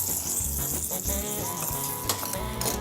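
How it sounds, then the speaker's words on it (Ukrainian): Lecho with beaten eggs sizzling steadily in a hot frying pan while a huge spoon stirs through it, a continuous crackling hiss with occasional scraping knocks. "Перемішуємо величезною ложкою."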